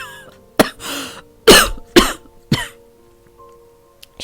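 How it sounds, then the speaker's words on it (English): A man coughs several times in sharp, spaced bursts, each followed by a rough breathy tail, close to the microphone in an otherwise quiet setting. "I just coughed."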